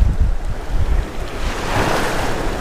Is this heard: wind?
yes